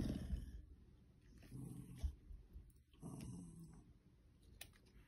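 Quiet, low dog growls from a playing puppy and an old dog come in short bursts with snuffling breaths between them, close by and without talk.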